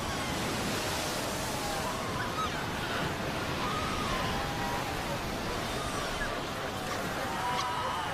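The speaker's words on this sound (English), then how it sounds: "The pups fight desperately against the onslaught of the waves." Ocean surf pounds a shoreline where seal pups lie, a constant loud roar of breaking waves and wash with no pauses, filling the whole stretch.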